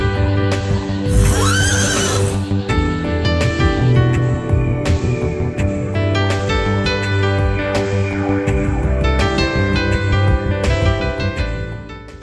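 At a beach, a horse lets out one loud, shrill whinny near the start, followed by faint hoof movement beneath steady, continuous music.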